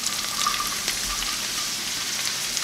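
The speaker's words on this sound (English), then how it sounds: "now I'm just gonna add the cabbage to it and cook it till it's wilted" Shredded cabbage frying in a pan with browned meat gives a steady, close sizzle with a soft crackle throughout, no voices.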